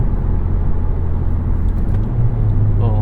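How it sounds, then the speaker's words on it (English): Engine rumble from a 2013 Mazdaspeed 3 during a heel-toe downshift, a steady loud cabin drone that rises in pitch near the end as the revs are blipped. "Little heel toe action there."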